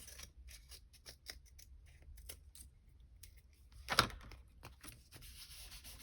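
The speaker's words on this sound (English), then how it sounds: "So I just took my scissors and rounded it out." Scissors snip around the rounded edge of a paper memo board, a run of short dry cuts close by and fairly quiet, with one louder sharp snip near the end.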